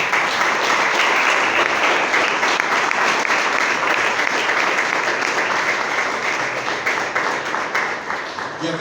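Church congregation applauding during a sermon, a dense, steady wash of many hands clapping for the whole stretch, fairly loud and easing slightly toward the end.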